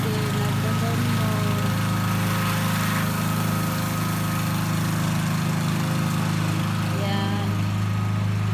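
Lawn mower cutting grass in a backyard, its loud engine droning steadily and close by without a break.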